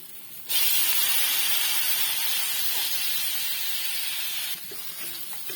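Steady loud hiss and sizzle as fish and vegetables go into a hot cooking pot. It starts abruptly, holds for about four seconds, then drops back to a quieter simmer.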